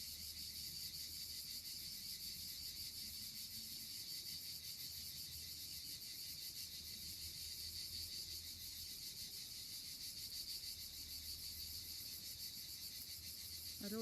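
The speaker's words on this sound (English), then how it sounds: "Close your eyes and listen. All the beautiful insects, alive and happy" Crickets and other insects chirp continuously outdoors in Italy, a dense, steady, high-pitched trill that stays even throughout at moderate loudness, with no talk.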